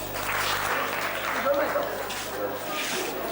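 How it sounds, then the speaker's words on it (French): Applause from the audience at a school ceremony in Porto-Novo, a continuous moderate clatter of many hands heard from some distance, with a low steady hum underneath. "vous donnez encore des applaudissements très très forts"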